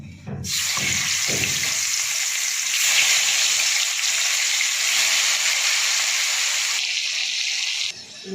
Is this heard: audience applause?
no